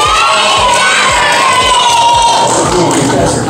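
A loud crowd of children claps and shouts an excited cheer together after a magic trick, sustained and close.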